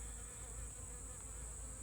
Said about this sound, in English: you can see a few of these bees buzzing around.